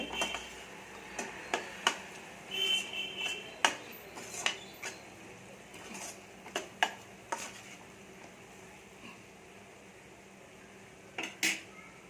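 A spoon stirs fish curry in a metal pot, giving quiet, irregular scrapes and clinks against the pot spaced out over a soft background, with a short pause before a final pair of knocks.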